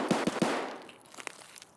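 Three pistol shots crack in rapid succession in the shooter game Escape From Tarkov, punchy and close, followed by fainter distant pops and rattles as the echoes fade, with no voices.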